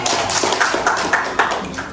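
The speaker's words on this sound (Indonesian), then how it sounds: "tepuk tangan buat Rafika" A small microteaching class clapping for a student named Rafika, a handful of distinct close claps in an uneven rhythm, fairly loud and brief.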